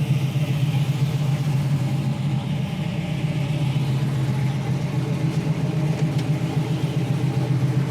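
A 1969 Chevrolet Camaro idles with a steady, throbbing low rumble and an even rhythmic pulse, close and continuous with no revving.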